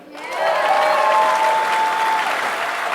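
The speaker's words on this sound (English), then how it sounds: "How about a big round of applause for Black's Barbecue?" A crowd at an outdoor birthday celebration event breaks into loud, close applause for a barbecue caterer, rising quickly and sustained, with a whistle or cheer riding over the clapping.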